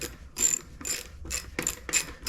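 Ratchet wrench clicking as bolts are run down on a carburetor, five quick bursts of ratcheting in a steady rhythm, close and fairly loud with no talk.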